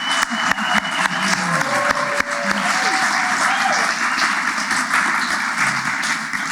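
An awards-show audience gives filmmakers sustained, dense applause that fills the room at steady volume. A few voices carry faintly through the clapping.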